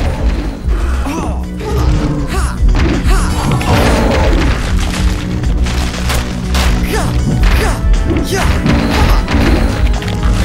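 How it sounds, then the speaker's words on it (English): Zombies smash through house walls in the PC game Monster Madness: Battle for Suburbia, a dense run of loud crashes, thuds and whacks layered over continuous game music and effects. "Whoa, they're breaking through Zack's walls!"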